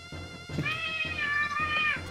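A house cat meows for attention in a long, wavering call that follows a short chirp, loud and close over low background game sound.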